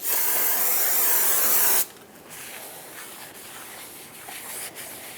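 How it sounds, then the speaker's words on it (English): Brake parts cleaner sprayed onto a Honda Accord rear brake rotor makes a loud, steady aerosol hiss lasting nearly two seconds, then stops, leaving quiet rubbing and handling sounds. "Use brake parts cleaner and a clean rag to wipe off any oils, dirt, and fingerprints that might have gotten on it."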